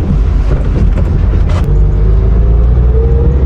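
A 1971 Hillman Imp Super's small engine idles and runs with a low, steady rumble, close up, with a brief rattly burst early on before settling.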